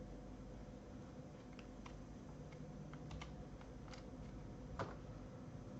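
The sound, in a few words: typing on a computer keyboard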